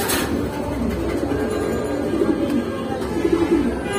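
Domestic pigeons offered for sale, a breeding pair among racer, Lahori, Homa and Sirazi birds, give low soft coos twice in the latter half over a steady murmur of background noise.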